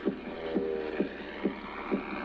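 A recorded heartbeat of a man making his first parachute jump thumps in a slow, steady rhythm, about five muffled beats, over a low hum.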